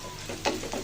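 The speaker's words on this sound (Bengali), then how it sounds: "এখন দিয়ে দিব পেঁয়াজটা ভালো করে ভেজে নিব বেরেস্তার কালার করে।" Onion frying in hot oil gives a brief, close, crackling sizzle with a few sharper pops in under a second.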